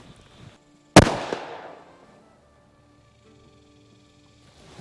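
A single loud gunshot firing unusual ammunition through a chronograph outdoors at dusk, a sharp crack followed by a rolling echo that fades over about a second into quiet.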